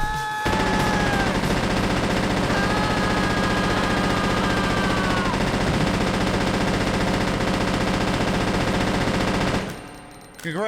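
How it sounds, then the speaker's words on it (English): Sustained machine-gun fire in Resident Evil Code: Veronica pours out as a loud, unbroken stream of rapid shots for about ten seconds, with voices talking over it, before cutting off abruptly near the end. "Congrats, you just shot Claire like 40 times"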